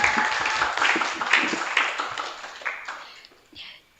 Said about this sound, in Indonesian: Tepuk tangan buat Grage Group